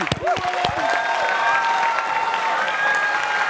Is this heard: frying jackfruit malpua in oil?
no